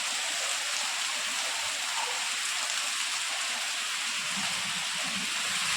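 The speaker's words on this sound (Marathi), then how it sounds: "हे पाणी बघा केवढ्या जोरात पडता" Heavy monsoon rain falls hard in the Konkan region, producing a steady, close hiss and patter of water that holds a constant level with no talking.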